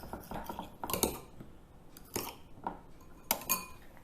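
Noodles being mixed with light and dark soy sauce in a pan: scattered metallic clinks and scrapes of a utensil against the pan, a few sharper knocks standing out, close and moderately loud, with no talk.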